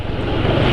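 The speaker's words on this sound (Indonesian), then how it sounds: "Ini suara mesin terasa makin halus" Engine idling with cooking oil added to its engine oil, a brief steady droning rumble heard close and moderately loud with no speech.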